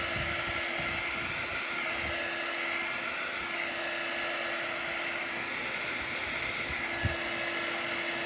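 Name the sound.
blow dryer drying paint on a doormat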